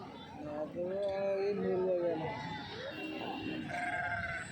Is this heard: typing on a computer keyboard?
no